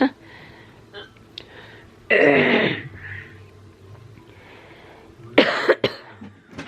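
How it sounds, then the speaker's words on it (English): Two sharp, harsh coughs from a person with a raw, sore throat, the first around two seconds in and a second burst near the end, with faint breathing and quiet rustle between them. "I'm trying to cough lightly so it doesn't hurt as bad."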